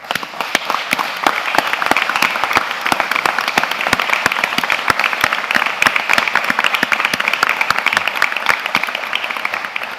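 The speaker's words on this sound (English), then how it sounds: "So, I will ask a round of applause for the team." An audience applauds the team at a trauma and extrication rescue seminar, sustained loud clapping with crisp individual claps audible through a steady, even roar.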